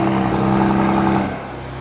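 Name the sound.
car engine revving through new exhaust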